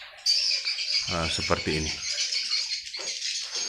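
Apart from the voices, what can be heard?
recorded swiftlet calls played as lure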